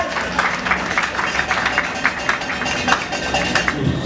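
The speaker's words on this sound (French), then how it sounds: "Nous acclamons très très fort pour le Seigneur Jésus-Christ." Audience applause at a church wedding ceremony, a dense steady patter of many hands clapping throughout, with some voices mixed in.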